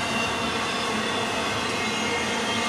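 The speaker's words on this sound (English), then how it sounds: "There's a huge load of these tankers here. Look at how long this train is." A long freight train made up of many tanker cars rolls past nearby, giving a steady, continuous rumble and rail noise with faint wheel squeal throughout, no voices.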